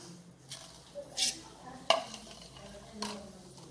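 Sparse, sharp pops and crackles of mustard seeds spluttering in hot oil, a few distinct bursts spread over quiet kitchen background.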